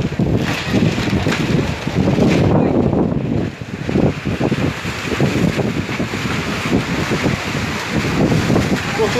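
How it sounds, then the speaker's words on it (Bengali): Strong wind buffets the microphone at a crowded, muddy outdoor cattle market, a rough continuous rumble with gusts, while someone talks over it throughout. "প্রচুর বাতাস হইতেছে।"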